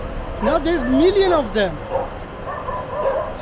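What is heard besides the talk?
many dogs barking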